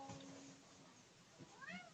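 A cat meows indoors in a room, a couple of quiet rising-and-falling cries over a soft hum, with the second call near the end.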